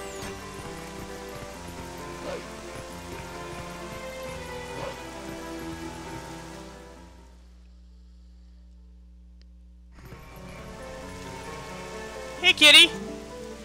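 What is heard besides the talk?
rain in Zelda: Twilight Princess HD video game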